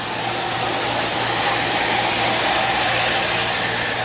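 A 1979 Lionel O-gauge model train running flat out at maximum speed, a loud, continuous motor whir with a steady hum and broad rushing noise, no talking.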